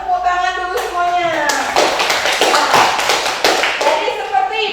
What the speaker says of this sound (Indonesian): Ya, tepuk tangan dulu semuanya.